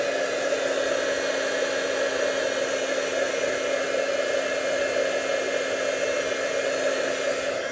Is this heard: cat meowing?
no